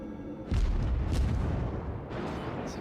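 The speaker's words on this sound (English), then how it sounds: "Shots going over this hill in front of me here." The Russian destroyer Gremyashchiy fires its naval guns in World of Warships, three heavy booming salvos spaced about half a second to a second apart, each trailing into a low rumble.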